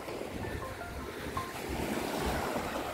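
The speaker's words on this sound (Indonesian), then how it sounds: "Kita sudah di pantai" Waves wash onto a tropical beach at Kairatu, Seram, breaking in a steady low roar with gusts of wind buffeting the microphone, moderately loud and continuous with no voices.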